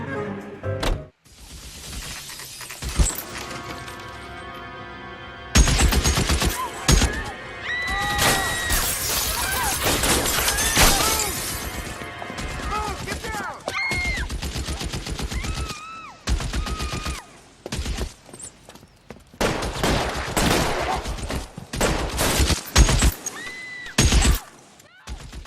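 Heavy gunfire in the game L.A. Noire rattles in dense, loud volleys with sharp impacts and glassy shattering, broken by short quiet gaps and electronic tones.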